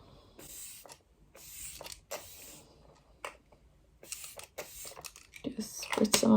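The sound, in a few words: spraying Glow Setter makeup setting spray on face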